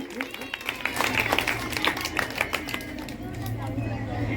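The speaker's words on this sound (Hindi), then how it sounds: "जोरदार तालियां भाई जी के लिए" Audience applause rings out at a devotional gathering in Satinagar, Agra, loud dense clapping running for several seconds over a low steady background hum and murmur.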